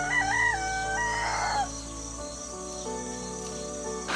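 Farmyard chickens gather around tossed scraps from a butchered deer carcass, one bird giving a loud drawn-out squawking call before quieter background clucking and insect chirps take over.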